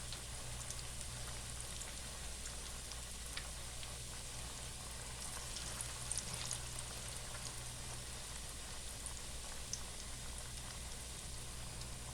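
Cabbage pakoras fry in a large pan of oil over medium heat, giving a steady, even sizzle and crackle that runs unbroken and fairly soft from start to finish, with a low hum underneath and no talking.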